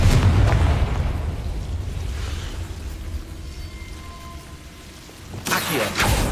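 A Confringo blasting curse explodes in a Harry Potter video game: a heavy low rumbling boom that slowly decays, followed near the end by a sharp, bright burst.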